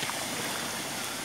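River water swirls and trickles faintly as elephants wade into the river, a brief soft wash of water with no talk.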